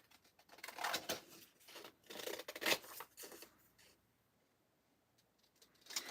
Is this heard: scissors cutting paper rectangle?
yes